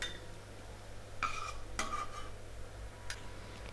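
Ghee-roasted cashews and raisins are scooped from the pan into a vessel, giving a few sharp metallic scrapes and clinks of spoon against pot over a quiet kitchen hum.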